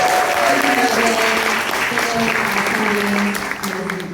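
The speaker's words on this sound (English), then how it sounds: "We can applaud Tilly. She's not here, we'll applaud her." Steady, loud audience applause fills a hall at a book event in Washington Hall, Seattle, with sustained clapping throughout and voices talking over it near the end.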